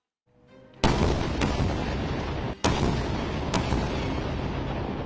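Explosions from rocket and artillery bombardment in the Israel–Gaza conflict, with a few sharp booming blasts striking over a loud, sustained rumbling roar that carries on between the impacts.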